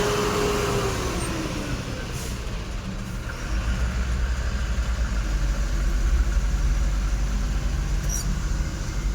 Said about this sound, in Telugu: ఫుల్ ట్రాఫిక్ అయిపోయింది